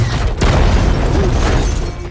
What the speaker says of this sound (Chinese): 队长扛起大炮在马克的爆点下瞄准幽冥